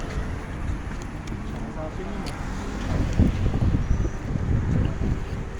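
Strong wind buffeting the microphone during a boat ride in Italy, a steady low roar with engine and water rumble underneath, growing rougher midway.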